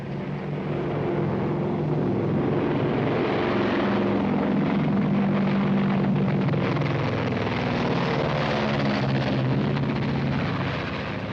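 Steady, loud drone of a propeller airplane engine running continuously with a throbbing hum, no voices.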